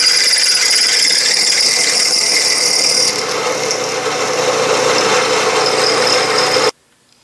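A drill boring 7/16-inch holes in a metal workpiece held in a dividing head on a machine shop drill press, with a steady, loud grinding rasp throughout that eases slightly partway, then stops abruptly.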